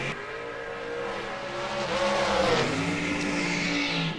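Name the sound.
dragster racing down drag strip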